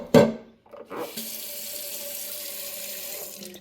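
Water from a kitchen tap pouring into a pot in the sink, starting with a clank then a steady rushing stream that fills the pot, close by with no speech.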